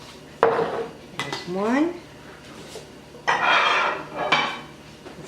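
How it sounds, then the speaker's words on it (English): Glass canning jars are lifted out of a microwave and set down in a home kitchen, giving sharp clinks and knocks among short rattles, with someone briefly speaking between them. "Now I'll get my jars out of the microwave."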